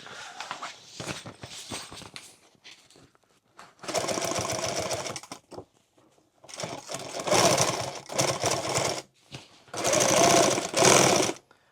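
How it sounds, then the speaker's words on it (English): An industrial sewing machine stitching heavy fabric for an XL tool bag, running in several fast rattling bursts of a few seconds each with quiet gaps between, loud and close, no talking. "So I'm only going to sew to here."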